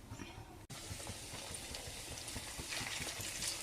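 Chandrakantulu sweet pieces deep frying in hot oil, a steady dense sizzle and bubbling throughout, briefly cut by a short gap, then growing slightly brighter and louder, with no talk.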